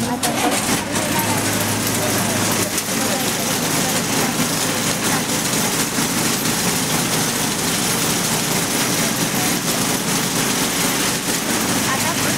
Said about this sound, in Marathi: बस चालू झालेली आहे.